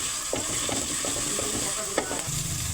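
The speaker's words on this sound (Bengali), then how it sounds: "রসুন বাটা, আদা বাটা, পেঁয়াজ বাটা সব কিছু ভালো করে ভুনে নিন।" Garlic, ginger and onion paste frying in a pan for a spiced khichuri, a steady close sizzle broken by soft scraping stirs at a slow, irregular rhythm, with no voices.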